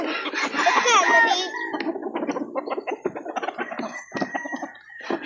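Quality chickens for sale at a poultry market in Calauan, Laguna cluck close by. A rooster gives a wavering crow-like call, followed by a run of busy, irregular clucks and squawks.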